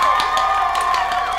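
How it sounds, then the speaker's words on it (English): A crowd claps and cheers in a steady, dense burst of applause, loud and close, sustained without a break through a short stretch. "let's just take a moment and give ourselves a round of applause for getting through this winter"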